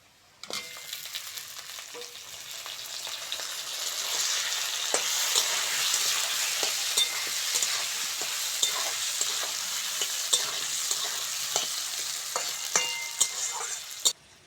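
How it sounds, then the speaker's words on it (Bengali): Sliced potatoes sizzle in hot mustard oil with lightly fried chopped onions in a pan, a steady close frying hiss broken by occasional clinks and scrapes of stirring. "পেঁয়াজটা হালকা করে ভেজে নিয়েছি ওতে আলুটা দিয়ে দেবো"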